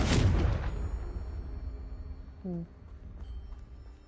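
A Confringo spell blast erupts in Hogwarts Legacy, a loud booming explosion that rumbles and fades over a second or so, followed by faint game sounds and a short tonal chime.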